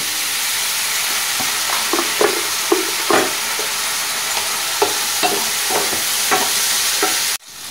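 Spices with a splash of water stirred in a hot pan for a spinach dish, loud close sizzling with a string of distinct scraping strokes roughly every half second, cutting off abruptly near the end.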